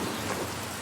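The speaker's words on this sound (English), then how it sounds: "The rain is turning everything to mud." Steady rain falls in the video game Pentiment, a continuous even hiss of drops with a faint low rumble beneath, with no voices.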